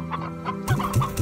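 Hens clucking in Slime Rancher, a game farm stocked with hen hens, stony hens and roosters: a steady run of close, overlapping clucks that grows louder and busier partway through, with no voices over it.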